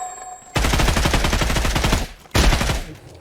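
Rapid automatic gunfire in the shooter game Badlanders: a sustained close burst of about a second and a half, a brief pause, then a second shorter burst, loud and dry.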